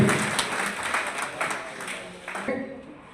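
Sustained clapping from an audience at a political party's brotherhood gathering in a banquet hall, many hands at moderate volume, mixed with talking voices and cutting off sharply near the end.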